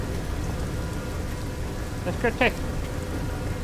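Steady rain falls in the video game No Man's Sky, a constant dense hiss filling the scene from start to finish, with a brief burst of a man's speech near the end.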